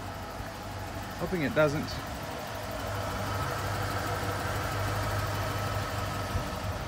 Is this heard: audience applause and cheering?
no